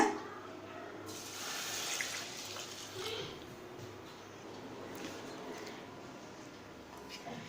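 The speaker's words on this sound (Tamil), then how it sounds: "இப்போ அடுத்து 2 கப் தண்ணி சேர்த்துக்கலாங்க." Water runs and splashes steadily into a pan for several seconds, a continuous watery rush with faint clattering, no voices.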